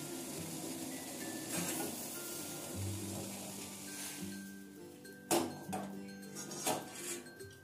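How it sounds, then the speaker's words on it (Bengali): Wok (kadai) set down on a stove in a home kitchen making langcha sweets, with clattering metal knocks and clinks near the end over a faint steady background hum. "কড়াই বসিয়ে দিয়েছি"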